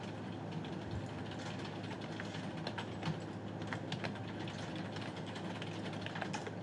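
Faint clicking of keys on a computer keyboard, scattered irregular taps over a steady low hum and background rumble, with no voices.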